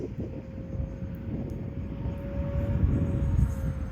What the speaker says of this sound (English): This Viper by e-flite is a really great flying plane.